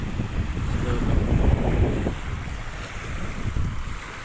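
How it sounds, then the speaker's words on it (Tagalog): Cold sea breeze at Manila Bay gusts across the microphone in a steady rumbling rush, with faint waves behind it and no clear talking. "Ang lamig ng simoy ng hangin kahit sa tabing dagat tayo."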